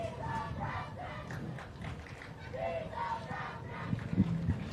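A crowd at a high school varsity softball game cheers and shouts after a hit, loud overlapping voices rising and falling, with a few sharp knocks near the end.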